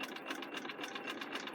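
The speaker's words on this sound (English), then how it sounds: "So I'm stitching all up this one side, so I'm enclosing the raw edge inside." A sewing machine runs steadily while stitching a sleeve placket, its fast even needle chatter whirring close and continuous without a pause.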